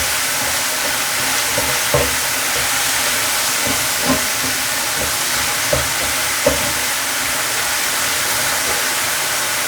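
Vegetables sweating in a pan make a loud, steady sizzle and hiss throughout, with a few faint clicks of stirring.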